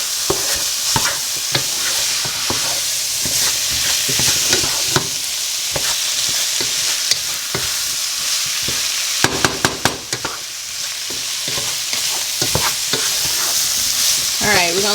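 Vegan vegetable soup ingredients are stirred in a pot over gentle sizzling, with repeated scraping and clinking of a utensil against the pot, close and continuous.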